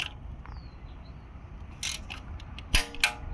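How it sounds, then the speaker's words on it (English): A torque wrench with a 14mm socket tightens the back bolt of an exhaust heat shield on a Lexus IS300/GS300 with a 2JZ-GE engine. A few close, sharp ratcheting clicks and metallic snaps come over faint background noise. "first, torque down the back fastener with a 14mm socket"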